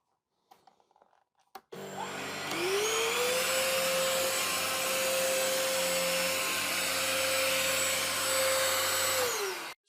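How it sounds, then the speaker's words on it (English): A Kenmore DS1030 or Tineco A10 vacuum cleaner running on carpet scattered with oatmeal and flour, a few light clicks then a loud motor whir that spins up, holds steady for about eight seconds and winds down. "we're going to test them out on the carpet with the oatmeal and the flour, just to see which one is the better suction here"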